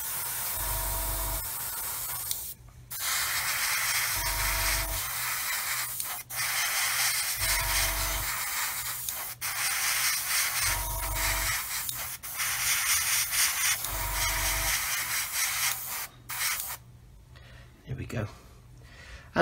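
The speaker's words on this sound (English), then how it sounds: "it just flooded out of the nozzle. Maybe my airbrush needs a proper clean." An airbrush sprays metalizer paint onto a 1/35 scale model missile, a steady close hiss broken by short pauses, with someone talking throughout and a low hum in some stretches.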